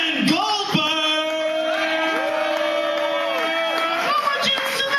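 A comedy club crowd at the Velveeta Room cheers and whoops for a stand-up comedian, with loud sustained shouts and yells blending into a dense, continuous roar throughout.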